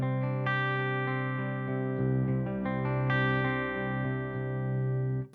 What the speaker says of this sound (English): going to throw on a bit of reverb and delay and some mild compression.